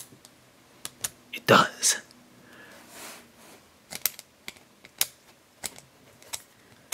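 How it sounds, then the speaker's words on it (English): Small plastic Shopkins Delish Donut clicky pen clicking, a string of sharp, light, close clicks scattered irregularly, with a brief burst of handling and a short spoken remark. "It's a sticky clicky pen."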